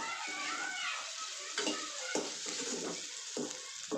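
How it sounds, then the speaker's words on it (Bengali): Fish and bitter gourd fry together in hot oil in pans, giving a continuous soft sizzle with a few brief stirring or scraping accents and no voices. "এখানে মাছ ভাজতে দিয়ে দিলাম আর এখানে করলা ভাজি হচ্ছে।"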